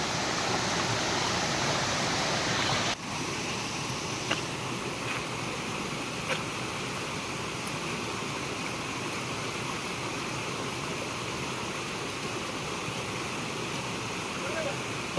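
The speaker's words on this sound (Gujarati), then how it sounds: "અહીંયા છે જટાશંકર વોટરફોલ્સ." Jatashankar waterfall at Girnar rushing in a steady, loud broadband roar of falling water that holds unchanged throughout, with a brief dip and a few faint clicks early on.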